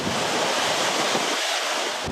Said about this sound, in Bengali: বড় বড় ঢেউ আঘাত হানে সৈকতে